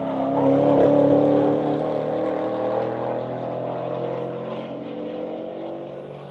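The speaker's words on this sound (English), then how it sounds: "Here comes Randy Popst in the throttle stop Camaro." A throttle-stop Chevrolet Camaro race car passes on a track, its engine note rising to a loud peak early, then fading steadily as it moves away.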